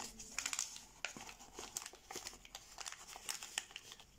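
Paper crinkling and crumpling in short bursts as a flattened origami fold is re-formed on a Robert Lang bearded fish model, close and fairly quiet, with no talking.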